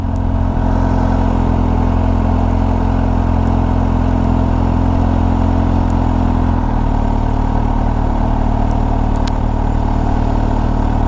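A supercharged Kawasaki H2 SX motorcycle is ridden at a steady cruise, its engine a constant low, rumbling drone under wind rush, with the pitch dropping slightly partway through as the revs ease.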